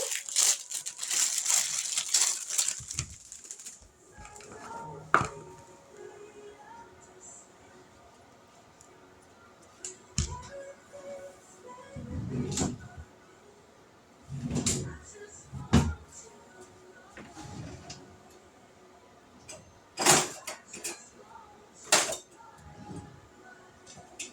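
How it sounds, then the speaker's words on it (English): A knife cuts through a fresh tomato on a cutting board in a home kitchen, giving scattered soft thuds and crunchy slices, with talking and the odd clink of dishes in between. "Now I'm going to slice up a tomato"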